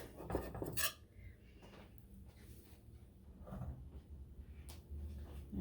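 A knife or spatula scrapes and clinks against a metal baking pan while strawberry bread is loosened from it, with a sharp metallic clatter early on followed by softer intermittent scraping, close and clear.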